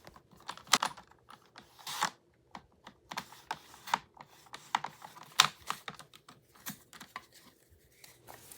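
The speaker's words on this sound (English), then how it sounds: "I am cutting off the bottom of the envelope and I'm cutting off the flap as well" Scissors cut through a paper bank money envelope in quick, irregular snips and crisp rustles, close and fairly quiet, with no voices.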